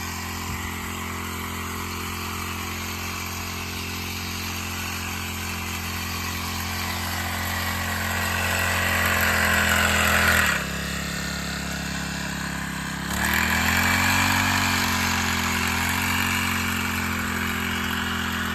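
A motorized crop-spraying pump runs in an orchard, giving a steady, loud mechanical drone with two brief dips in pitch and volume before it settles back to a constant hum.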